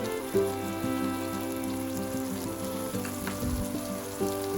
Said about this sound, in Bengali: কুচো নারকোলগুলোকে আমি একটু তেলের মধ্যে ভাজা ভাজা করে নিয়ে